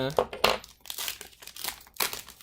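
A Pokemon Burning Shadows booster pack's foil wrapper crinkles and tears open close by in short crackling bursts, with talk alongside.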